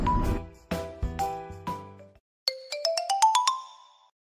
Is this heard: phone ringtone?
yes